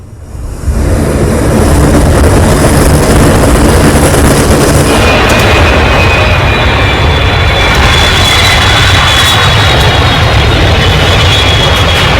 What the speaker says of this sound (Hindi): प्रधानमंत्री ने देखिए श्रीलंका में C-130 भेज दिया है। ये श्रीलंका में लैंड हुआ है राहत का सामान लेकर।